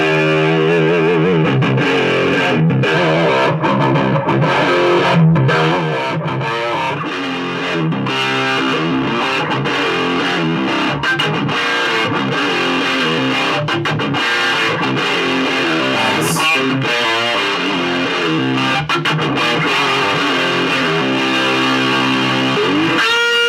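Distorted electric guitar through a free amp simulator plugin, a heavy saturated tone with continuous riffing and chords played steadily and loud throughout.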